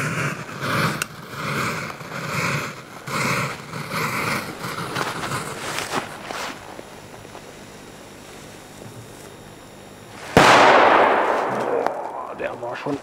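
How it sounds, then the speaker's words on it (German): A Polish C-class firecracker set off outdoors on soil, a sharp loud blast near the end after a stretch of quieter rumbling and rustling, with a ringing, noisy decay. "Dann nehmen wir direkt so einen C-Böller."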